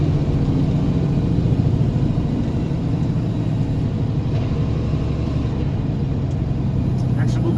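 A truck's engine drones and rumbles steadily as it climbs a hill with gear changes, a loud, continuous low growl heard from inside the cab with no clear speech.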